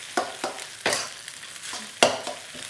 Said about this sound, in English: I'm actually going to slowly fry the rice off.